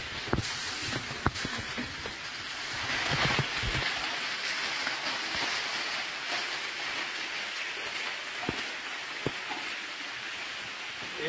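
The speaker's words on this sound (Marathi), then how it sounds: "आणि सोबतच पाऊस पण पडतो" Rain falls on a steep mountain trail up Brahmagiri in a steady hiss, with scattered sharp knocks and footstep-like clicks close by, and no speech.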